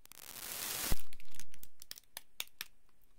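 The plastic wrapper of a dry, brownie-like Japanese snack is torn open with a long, loud rip, then crinkled in a series of short, close crackles and snaps.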